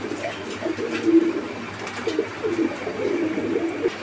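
Pigeons at a breeding farm coo repeatedly, overlapping low throaty calls rising and falling throughout, close and moderately loud, with no talking.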